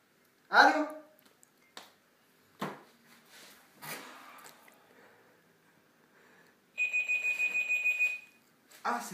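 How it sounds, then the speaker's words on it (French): An intercom buzzer rings near the end as a rapid series of about ten electronic pulses, loud and close, after scattered thumps and brief sounds of a person moving about indoors. "Ah, c'est l'interphone."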